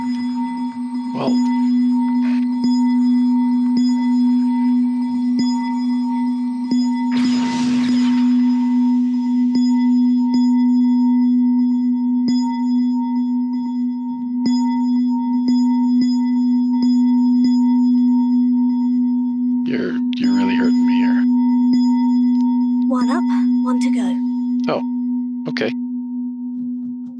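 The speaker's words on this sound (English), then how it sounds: "Where's that other bell?" A sustained bell tone hums throughout in Hogwarts Legacy, a steady ringing drone held across the whole stretch, broken midway by a burst of noise and later by a few sharp clinks and rustles.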